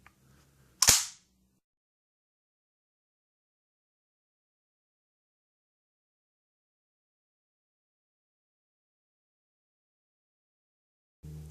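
A Burgess pump shotgun slam-fires in a single sharp, loud report near the start, followed by long silence and a faint bump of handling at the very end.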